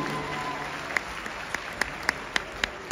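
A live concert audience in Adelaide, Australia, applauds at a show, a steady wash of clapping with individual claps popping out sharply toward the end.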